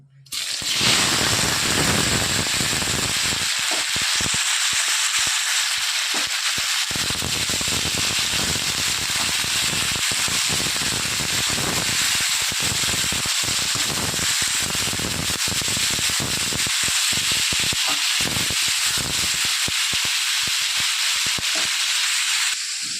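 Mixed vegetables hit hot oil in a pan for a small fish curry, giving a loud, continuous sizzling hiss with crackling pops that runs steadily for over twenty seconds, close and constant.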